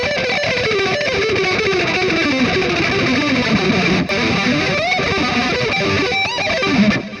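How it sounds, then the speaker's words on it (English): Sloppy electric guitar playing with poorly synchronized picking and fretting hands, a distorted tone with chorus-like effects, a continuous run of uneven, smeared notes, loud and alone. "Whereas poorly synchronized hands sound like this"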